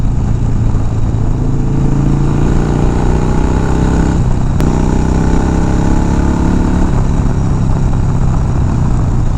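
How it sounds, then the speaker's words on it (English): A Harley-Davidson FXR motorcycle engine runs continuously and loudly up close with a steady, deep, rumbling idle and no talk. "it's kind of nice to not have a bike that's completely deafening like my Dynas. And yeah, it just sounds like a classic Harley-Davidson"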